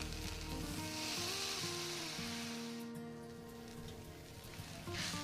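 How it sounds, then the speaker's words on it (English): Veal stock hits a hot pan and sizzles in a bright, steady hiss that settles slightly, with faint musical tones playing underneath. "And to that pan, we're going to go ahead and add our Kitchen Basics veal stock."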